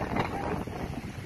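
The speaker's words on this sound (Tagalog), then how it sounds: "Ang lakas ng lawiswis ng hangin," Strong wind roaring and buffeting steadily for a moment at Sandia Crest, a dense broadband rush with no voices.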